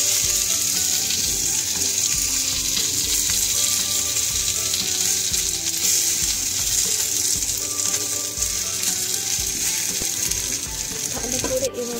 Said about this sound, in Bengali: ভালো করে এভাবে এপিট ওপিট করে ভেজে নিয়ে তৈরি আমাদের মাছ পাতুরি